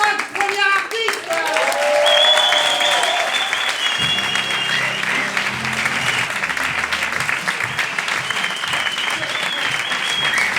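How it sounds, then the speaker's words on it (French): A live audience gives a big round of applause for the first five performers at a French stage show, loud sustained clapping and crowd noise with cheers rising over it, a host's voice in the mix. "un tonnerre d'applaudissements pour les 5 premiers artistes!"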